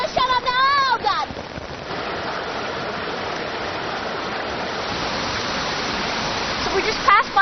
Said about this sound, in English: So this is the waterfall, you see